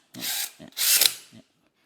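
A DeWalt DCD996 cordless drill in drill mode whirs in two short, close bursts, the second slightly longer, each followed by a brief low knock.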